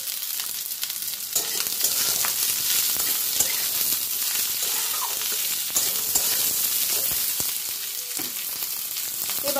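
Vegetables for chapor ghonto fry in a pan over a medium gas flame, giving a continuous close sizzle with occasional clicks and scrapes of stirring throughout.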